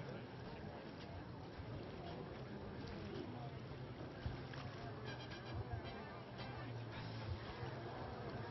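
Jet skis drag racing into the first turn of a race at Parker, Arizona, a distant engine drone spread across the water behind wind noise, steady throughout, with a commentator talking over it.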